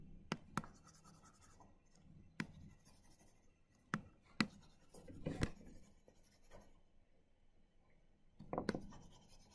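Chalk or marker strokes and scrapes rub across a lecture board as writing is erased, faint irregular scratches and taps spread out with quiet pauses between them.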